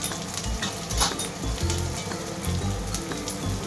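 Spice masala of cumin, chili and garam masala powders spatters in hot oil, a close, steady crackling sizzle broken by sharp pops and spits throughout.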